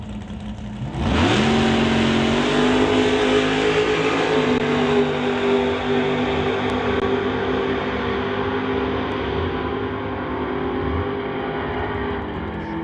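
Drag racing doorslammers, including a 1967 Camaro with a 621 big block Chevy, launch with a sudden loud roar, the engines climbing and holding at full throttle for over ten seconds and fading only slightly as the cars pull away.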